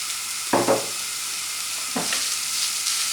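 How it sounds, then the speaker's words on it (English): Ground beef goes into a pan of softened onions on raised heat for a plate meat pie, setting off two sharp sizzling bursts with stirring scrapes, then a steady close hiss of frying. "Well, the onions are ready for the beef now, so we'll put that in. Turn the heat up."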